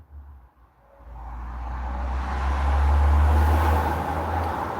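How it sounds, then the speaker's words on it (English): A single car passes along a street, its tire and engine noise swelling from faint to loud and staying close near the end, with no voices. "the mating call of the lesser spotted automobile as it passes on the street"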